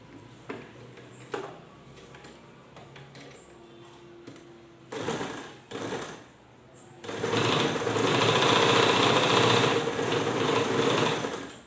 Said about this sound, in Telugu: ఇది కూడా ఇలా కుట్టేద్దాం.